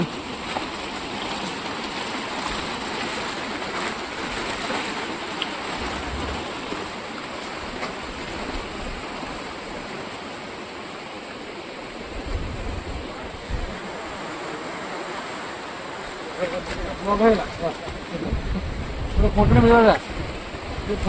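Floodwater rushes and overflows through a village in Odisha, a steady broadband roar of running water lasting throughout, with some louder splashing surges near the end and faint voices in the background.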